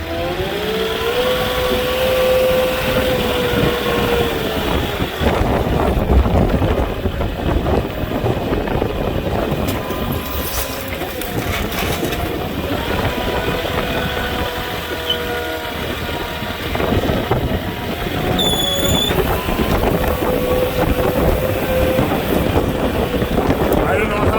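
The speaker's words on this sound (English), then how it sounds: "Windy up here today." Strong wind of about 40 to 60 mph buffets and roars continuously at a home construction site in Joshua Tree, with rumbling gusts and a faint machine hum underneath; some speech is mixed in.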